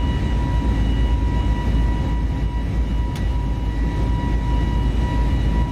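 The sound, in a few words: Airbus A320neo LEAP-1A engines in flight, video game soundpack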